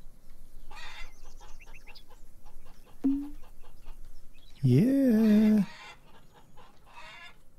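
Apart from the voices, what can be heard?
chickens clucking in video game Farmer's Dynasty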